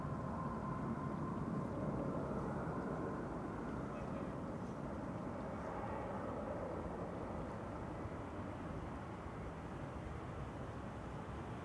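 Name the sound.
Boeing 787-10 airliner arriving at Amsterdam Schiphol airport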